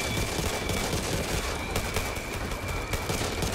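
Rapid, dense gunfire in a Back 4 Blood firefight, pistols among it, cracking continuously and loudly throughout with no pauses and no talk.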